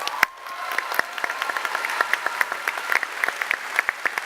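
An audience at a PAX West gaming panel breaks into a round of applause, individual claps sharp and distinct at first, then thickening into steady clapping that carries on at moderate loudness without voices over it.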